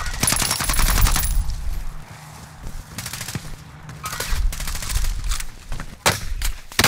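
Gunfire in a battle-royale shooter game rattles in rapid automatic bursts, with a dense volley at the start and more scattered shots and short bursts later, loud and close with some distant cracks between.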